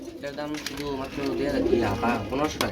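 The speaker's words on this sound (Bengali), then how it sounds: "এখানে রয়েছে এক জোড়া দুয়েল কবুতর" A pair of pigeons coo in a loft, soft rolling coos rising and falling close by, with a voice speaking over them throughout.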